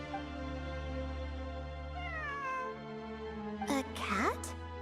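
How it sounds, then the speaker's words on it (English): A cat meows a few times in the video game Genshin Impact, short rising and falling cries near the end over a steady droning musical background, with speech also present. "It really is a cat."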